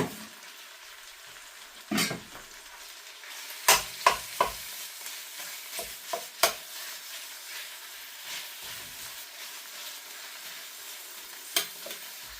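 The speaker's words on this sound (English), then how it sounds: "put a bit in at a time in the frying pan" Minced steak sizzles softly in a frying pan with scattered clatters and scrapes of stirring, quiet between a few sharper knocks.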